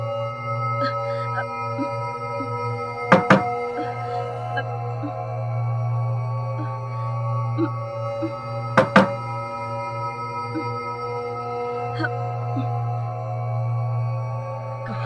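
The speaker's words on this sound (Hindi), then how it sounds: "कब से दरवाजा खटखटा रही हूँ।" Two short bursts of quick knocking on a door, each a pair of sharp raps, stand out over a steady low electrical hum in an indoor room.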